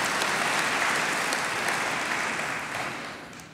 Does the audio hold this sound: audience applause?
yes